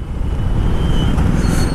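Heavy road traffic close by on a busy street, a loud, low, continuous rumble of engines and tyres, steady throughout with a faint high tone passing briefly.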